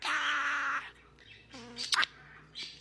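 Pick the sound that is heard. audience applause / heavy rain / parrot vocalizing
parrot vocalizing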